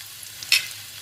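Curry leaves hit hot oil with onions frying for a Kerala tender jackfruit stir fry, giving one short, sharp burst of sizzling that fades quickly against a quiet kitchen background.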